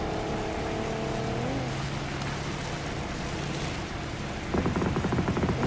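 Engine drone of a car in a racing video game, steady and continuous with shifting pitch, ending in a rougher, louder rattling burst near the close.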